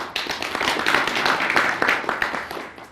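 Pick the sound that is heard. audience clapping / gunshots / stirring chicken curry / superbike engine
audience clapping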